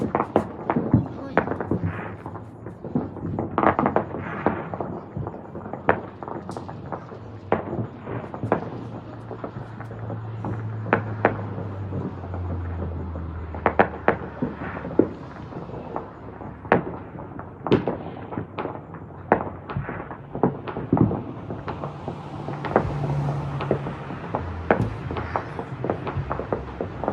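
Backyard fireworks on a Fourth of July weekend in Las Vegas crack and boom in a steady barrage of sharp bangs, some near and some farther off, while people talk and react throughout.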